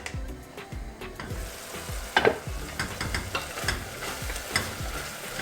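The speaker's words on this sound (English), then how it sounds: "So keep stirring it and make sure that your tomatoes soften up really nicely" Tomatoes frying in a pan for tadka dal, stirred steadily with a spoon: a low sizzle runs throughout, with intermittent scraping strokes and brief clatters against the pan, close and moderately loud, no talking.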